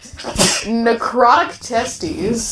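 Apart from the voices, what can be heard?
sneeze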